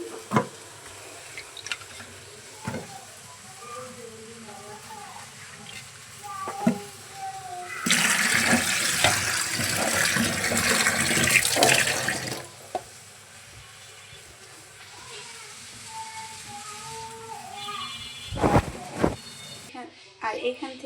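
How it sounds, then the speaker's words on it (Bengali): Running tap water pours over cut pointed gourd and potatoes in a kitchen, a steady gush for a few seconds in the middle, with someone talking and light clatter before and after. "এই পাশে আমি পটল আলু এখানে ভালোভাবে পানি দিয়ে পরিষ্কার করে নিচ্ছি"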